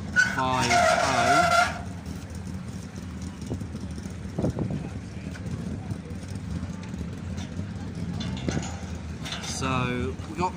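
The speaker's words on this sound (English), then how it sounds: "So, we've got more cars arriving." Race cars roll into the pits at a King's Lynn season opener, with a loud engine burst and tire noise at the start, then engines idling and revving at a distance under wind noise and someone talking.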